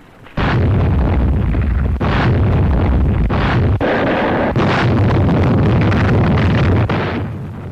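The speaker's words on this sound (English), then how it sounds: "the Navy's warships sought to soften up the beaches by the final pre-invasion bombardment" Warships shelling the D-Day beaches in a final pre-invasion bombardment, heard as a continuous loud roar of heavy booms and blasts with repeated sharp impacts, rough and wind-buffeted like old archival recording.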